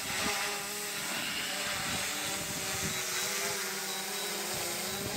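A DJI Mavic Pro Platinum drone lands on its own during an automatic return-to-home, its propellers giving a faint, steady whirring hum over light wind and outdoor background noise.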